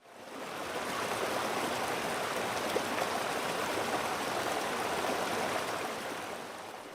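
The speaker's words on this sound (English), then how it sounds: "This is from the Brook Sound story." Brook setting on a white noise sleep machine: a steady, even rush of flowing water that fades in quickly and then holds at a constant level with no voices.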